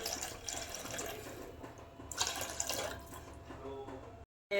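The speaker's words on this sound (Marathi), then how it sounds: "आता पाणी टाका पाहिजे थोडं पाणी टाकायचं" Water poured into a cooking pan for a besan dumpling curry, a faint steady splashing flow that briefly stops near the end, with quiet background noise.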